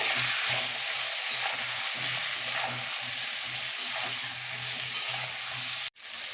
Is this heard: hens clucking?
no